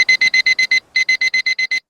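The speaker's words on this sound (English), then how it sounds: "An alarm clock rings at fever pitch." A loud, shrill alarm clock beeps in rapid bursts of evenly spaced pulses, pausing briefly once before resuming, close and piercing with nothing else heard.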